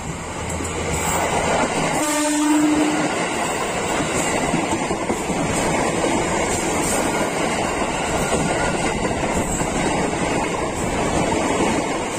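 JR205-7F ten-car KRL commuter electric train passing close at a former level crossing on its way to Bekasi, with a loud steady roar of wheels and rails throughout and a short horn blast near the start.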